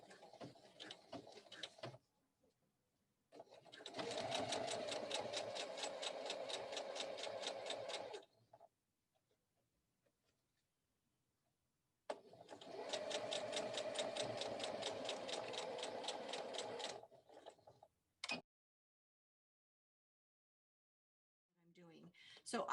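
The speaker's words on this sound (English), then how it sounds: "edge to edge with your 1/4 inch foot, we are going to sew the one and only seam in this whole entire boot." Home sewing machine stitching the single seam of a fabric boot with a 1/4 inch foot, two close bursts of rapid rhythmic needle clatter, each several seconds long, separated by pauses and a few small clicks.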